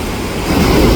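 Chivati Bari waterfall pours during monsoon rain, a steady broadband roar of falling water that swells slightly, continuous and fairly loud with no voices.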